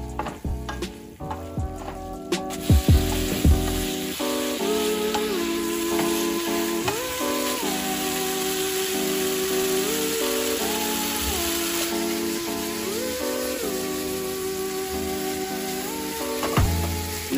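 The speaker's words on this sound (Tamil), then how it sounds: "நம்ம ஃப்ரை பண்ண மீனை இது கூட ஆட் பண்ணிக்கிறேன் நல்லா mix பண்ணி எல்லா மீனையும் படுற அளவுக்கு mix பண்ணிக்கலாம்" Fried fish stirred into a thick, sizzling semi-gravy for fish chukka, a constant loud sizzle with a few clanks and scrapes of the spoon against the pan, backed by a droning background tone.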